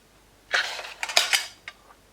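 Cuticle nippers snipping at skin during a manicure, a quick run of small sharp metallic clicks and snips close up, with a couple of fainter snips trailing after.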